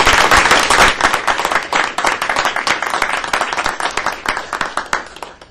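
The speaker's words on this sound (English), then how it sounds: "I'd like to ask if we could give them a round of applause for their work" Audience applause at a school board of education meeting, many hands clapping densely and loudly from the start, then gradually thinning toward the end.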